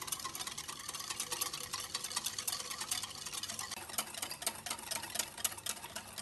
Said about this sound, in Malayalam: ആദ്യം ചെറുതായി ഒന്ന് ഇളക്കി മിക്സ് ചെയ്യുക അതിനുശേഷം നന്നായി അടിച്ചെടുക്കാം